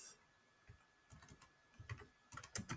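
Keys clatter on a computer keyboard as a workflow title is typed, with soft scattered clicks coming in short bursts, quiet and close, growing busier toward the end, with no voices.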